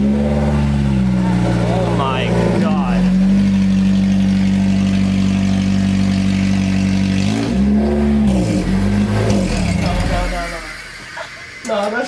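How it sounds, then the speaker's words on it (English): Honda S2000 engine with open headers, loud and close, holding a steady high-revving drone that dips and climbs again through several blips before easing off near the end, with voices talking over it. "Starting open headers."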